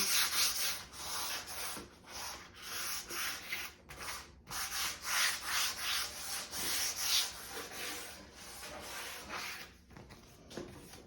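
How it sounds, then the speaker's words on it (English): Rhythmic scratchy rubbing of a medium-grit 3M sanding pad lightly sanding a varnished wooden cabinet, strokes repeating back and forth with brief pauses, close up and steady. "I'm just going to give it a light sand"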